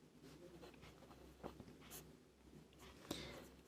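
Faint scratchy strokes of a formula being written during a Hindi class 10 mensuration lesson on the diagonal of a cuboid, quiet and intermittent over low room hum, with no speech.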